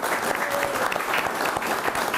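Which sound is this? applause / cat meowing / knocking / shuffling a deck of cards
applause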